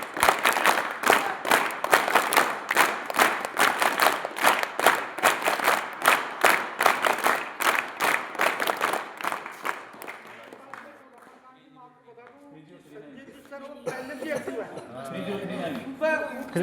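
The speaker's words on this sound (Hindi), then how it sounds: "और ताली बजाओ।" Schoolchildren at a residential school event clap together in fast, rhythmic applause for about ten seconds. It fades into murmuring chatter and scattered noise, with voices talking near the end.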